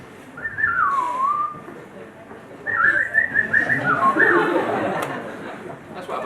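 A person's voice imitates a budgerigar, a small pet bird, during a fan convention Q&A, making two bursts of warbling whistles and chirpy chatter, a short one first and then a longer, busier run.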